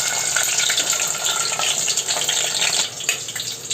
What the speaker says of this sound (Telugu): ముందుగా అయితే మనము ఉడకపెట్టుకున్న ఎగ్స్ వేసి వేయించుకోవాలి.